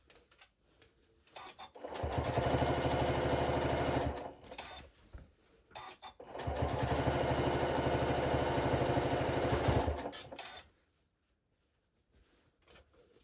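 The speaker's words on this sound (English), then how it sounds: "then you're going to sew them together with a 1/2 inch seam allowance" Sewing machine stitching rows of a rag quilt together with a half-inch seam, two long steady runs of rapid mechanical whirring separated by a short pause, close and loud with no talk.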